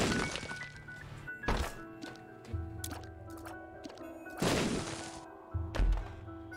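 Bombs go off in The Binding of Isaac: Repentance as two heavy blasts with deep booming low ends, each followed by a sharp thud, set over steady game music with no speech.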